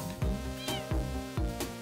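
A cartoonish cat meows in the Wobbly Life video game, several loud, close meows in quick succession, each with a sharp start and a falling tone, heard with no talk over them.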